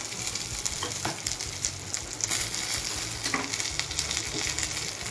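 Urad dal, cumin, dried red chillies, curry leaves and asafoetida crackle and spit in hot oil, a dense continuous close sizzle with sharp pops scattered throughout and no talking.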